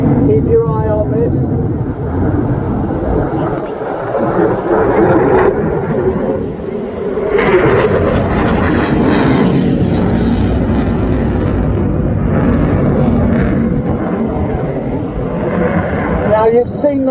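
Jet aircraft flying past at the Blackpool Airshow, a loud, swelling roar that rises and fades over several seconds while an announcer talks over it.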